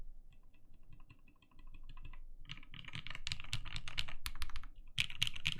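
Typing on a TGR Jane V2 CE keyboard built with NovelKey Cream switches: a few soft, sparse clacks first, then a quick, dense run of sharp keystrokes growing louder up close, with no voices.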